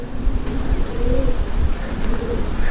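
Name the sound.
pigeons cooing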